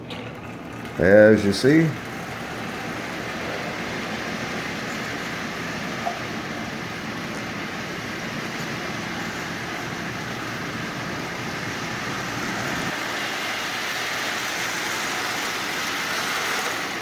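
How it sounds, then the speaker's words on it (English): A Marx 999 toy train locomotive motor runs with a steady mechanical whir and hum for the whole stretch, and a voice speaks briefly near the start. "But the motor is running. In fact, the motor is running really, really well."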